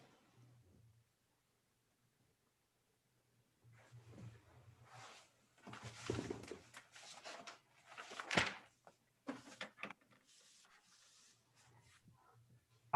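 Paper rustling during an online conference call, faint scattered crinkles and scraping strokes close to a microphone, broken by silent gaps, with a brief louder rustle near the middle.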